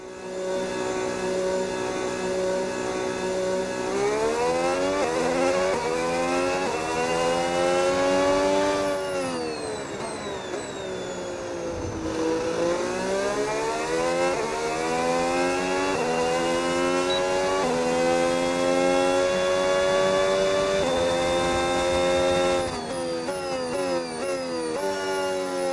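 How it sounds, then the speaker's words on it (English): Formula 1 car engine in the F1 26 racing game, a loud continuous high-pitched whine that rises and falls through gear changes as the car accelerates and brakes on a warm-up lap in Australia, alone without talk. "I love the engine sound. I say it a lot of times, but this 4 engine sounds really good in the game."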